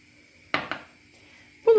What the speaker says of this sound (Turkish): birkaç tane pirinç tanesini şu şekilde tuzluğumuzun içerisine atıyoruz